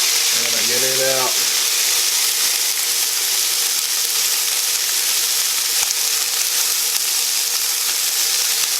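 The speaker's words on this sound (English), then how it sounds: "what you want to do here is brown your ground beef" Ground beef browning in a pan, a loud, steady sizzle and hiss that runs throughout, with a brief scraping stir near the start and no talking.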